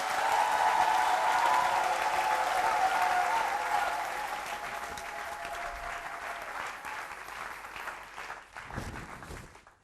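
A church congregation applauds and cheers loudly for the Lord during a French-language sermon, with a dense, sustained wash of clapping and shouts that slowly fades toward the end.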